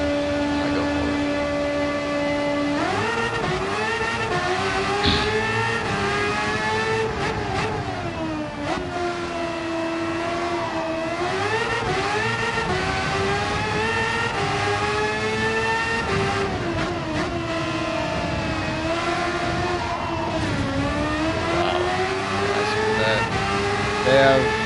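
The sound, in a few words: racing car engine from the video game Gran Turismo 7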